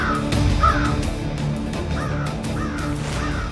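A crow caws in a city, giving about five harsh calls at a steady pace over a continuous background of street noise.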